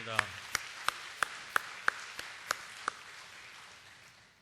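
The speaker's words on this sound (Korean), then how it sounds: "우리 하나님 앞에 박수로 영광 돌리겠습니다" Church congregation clapping in a worship service: about ten sharp, evenly spaced claps, clear and moderately near, fading into a quiet room after the final clap.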